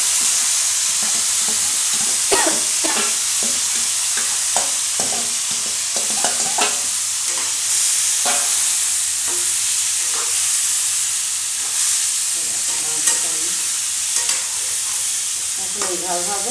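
Chicken leg pieces fry and sizzle in a pan for biryani, with steady hiss and repeated close stirring scrapes of a spatula throughout.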